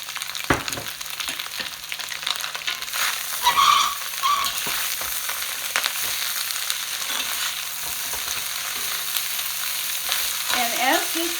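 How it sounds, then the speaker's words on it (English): Chopped kimchi and kale stir-fry over high heat in a wok, with a steady close sizzle and the scrape and clatter of tossing and stirring throughout. "So I'm now going to add the chopped kimchi and the chopped kale"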